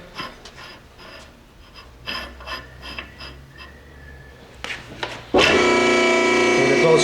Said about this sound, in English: You just want to expand it and slightly give it a rotation to round your tube out, and you have a slip fit.